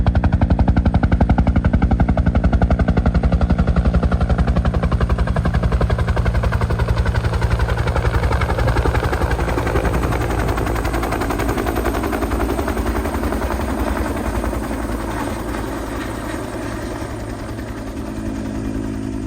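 A firefighting helicopter practising water bucket drops over a field at Braddock Bay Park, its rotor thudding in a rapid, loud, continuous chop that slowly eases in volume as it moves off.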